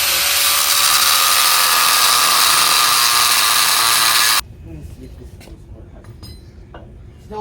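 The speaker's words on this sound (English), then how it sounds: "So I'm gonna grind the sucker down to make it fit." A power grinder grinds down a metal part so it will fit a WARN Zeon 10 winch with a Factor55 fitting on a Toyota Tacoma, a loud, harsh continuous roar for several seconds that cuts off abruptly, followed by quiet clinks.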